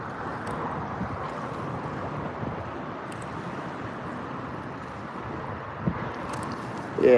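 Steady wind rushes and buffets the microphone on an open fishing boat out on the water, a constant broadband roar with faint water slap and a brief bump near the end, no talk.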